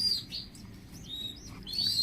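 Two pigeon chicks being fed by their parents give thin, high-pitched squeaking chirps in short bursts, close and fairly quiet, over a low background hum.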